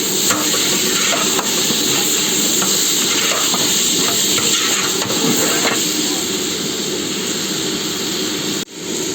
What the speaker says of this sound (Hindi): तेल के अंदर प्याज डाल के उसको ब्राउन कर रहे हैं।